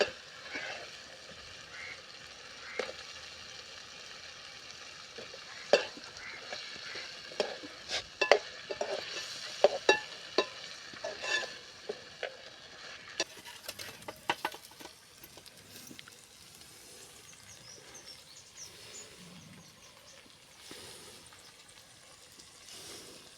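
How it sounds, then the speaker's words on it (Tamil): Potatoes are sautéed in a pan for green pea biryani: scattered spoon scrapes and clinks over a soft, low sizzle, with stirring bursts in the first half and quieter frying afterward. "நல்லா வணக்கி விட்டுக்கோங்க அடுத்தது இப்போ உருளைக்கிழங்கு ஆட் பண்ணிக்கலாம்"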